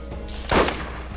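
A single sniper rifle shot in the video game Borderlands, one loud close crack with a short tail standing alone over faint background hum.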